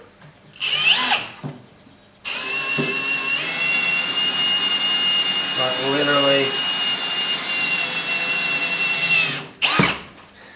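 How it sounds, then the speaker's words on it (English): A power drill with a sharp bit bores slowly through steel Nerf bars while preparing a race car for speedway, a steady high whine running for several seconds between brief bursts and a few spoken words nearby. "drill these Nerf bars, and that's really, really slow with a nice sharp drill bit"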